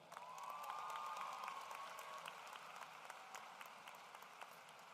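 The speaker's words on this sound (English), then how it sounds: "Round of applause for that." Applause from the crowd at a high school graduation ceremony, a steady, fairly faint wash of many hands clapping with a few cheers, tapering slightly toward the end.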